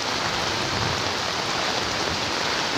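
Swift floodwater rushes past homes during flooding in eastern Cirebon, a steady, dense, close roar of churning water with no break.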